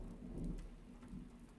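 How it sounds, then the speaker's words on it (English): A thunderstorm pours steady heavy rain while low thunder rumbles through it, a dense continuous wash of sound without any voices. "But it will be some time before the storm passes."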